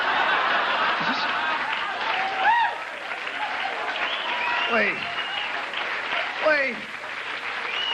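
Studio audience at a stand-up comedy show breaks into loud, sustained applause mixed with whoops and laughter, while a comedian speaks over the crowd.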